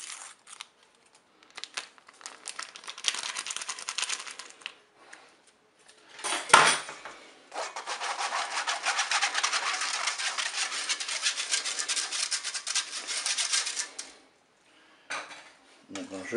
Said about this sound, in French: je vais poser un tamis sur mon récipient et je vais ajouter la farine et la levure chimique